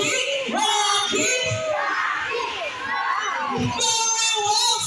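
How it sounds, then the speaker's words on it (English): A crowd of boys shouts and cheers loudly and continuously at a sea lion show at Manila Ocean Park, a dense chorus of young voices with a brief dip midway. "Come on, boys, let me hear cheer."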